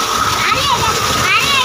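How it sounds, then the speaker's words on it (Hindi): Hot water gushing from a pipe into a village pool, heard as loud, continuous splashing and churning right at hand, with a voice audible over the water. "अब गर्म पानी निकल रहा जी"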